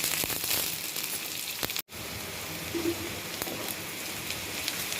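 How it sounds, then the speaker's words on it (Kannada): Green chillies fry in a pan with onions, a steady, crackling hiss of sizzling oil close by, briefly cutting out for an instant before resuming at an even level. "ಈಗ ನಾನು ಹಸಿರು ಮೆಣಸಿನ್ಕಾಯಿ ಹಾಕ್ತಾಯಿದ್ದೀನಿ"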